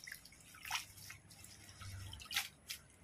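Water dripping and splashing as whole malunggay (moringa) leaves, still on their stems, are rinsed at a sink, with a few brighter splashes over a quiet, close background.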